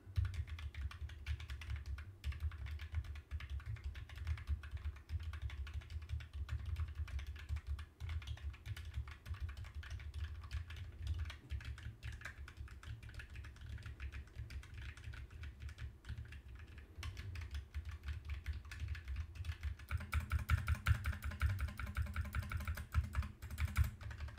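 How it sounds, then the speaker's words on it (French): Steady keyboard typing, close and continuous, a busy patter of key clicks with a low background hum throughout. "rejeter les bruits de la frappe de mon clavier"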